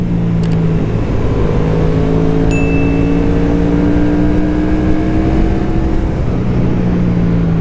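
A Yamaha MT07 motorcycle ridden on a bumpy road, its engine droning loudly and steadily with slight pitch shifts as it holds speed, close up throughout.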